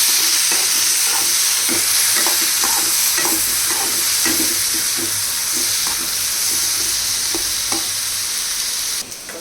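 Tomatoes sauté in a pan for mutton curry, a constant loud sizzle and hiss with repeated scraping stirs of a spoon at an irregular rhythm, close up and with no voices.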